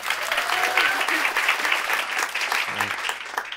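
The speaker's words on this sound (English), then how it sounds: "Round of applause for Elizabeth." Audience applause at a TEDx event, a warm burst of clapping from a seated crowd lasting a few seconds, with a brief voice underneath.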